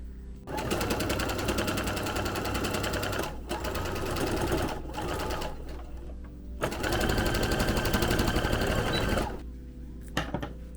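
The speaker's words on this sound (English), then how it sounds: "And I'm going to sew around the edge of this." A sewing machine stitches around the edge of plushie fabric in long, steady loud runs, broken by a few short pauses and stops.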